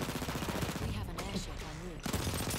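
Hip-fired gunfire in a World War One video game, a quick burst of several rapid shots in the first half, then a short pause before more shots resume at the end, fairly quiet and mixed with game sounds.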